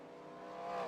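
A race car rolling off onto the track in an auto racing event at New Hampshire, a steady engine tone rising slightly in pitch and loudness as it pulls away, faint and brief.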